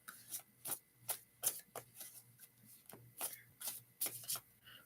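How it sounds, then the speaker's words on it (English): Tarot cards being shuffled in a quiet room at night, a series of crisp riffling snaps and soft slaps in an irregular rhythm, close and fairly faint, with no one speaking. "Let me shuffle the cards for you."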